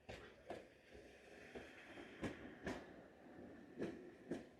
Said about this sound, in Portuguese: Lá vem o trenzinho elétrico, número 10.